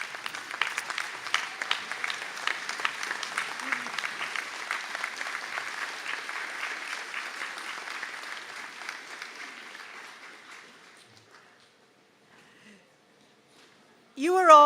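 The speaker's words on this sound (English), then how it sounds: "give them a little round of applause as a thank you" Graduates at a college conferring ceremony in Sligo applaud their supporters, a steady broad round of clapping that fades out around ten seconds, followed by near silence and a brief voice at the end.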